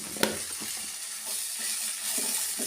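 Broad bean seeds fry in a pan with chilli powder and coriander powder, giving a steady broadband sizzle with a sharp clink near the start and soft stirring scrapes throughout, with no talking.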